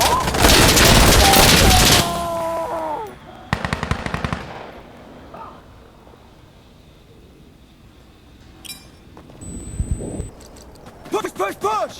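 Gunfire in the video game Insurgency: Sandstorm, loud bursts of rapid automatic fire and single cracks coming in clusters, with quieter gaps between them and radio-style voices talking.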